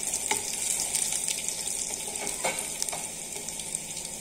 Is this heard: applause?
no